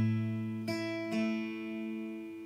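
Acoustic guitar picking the opening bar of a song, a few single notes ringing out cleanly and sustaining, close and alone with no talking.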